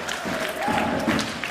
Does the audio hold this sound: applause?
yes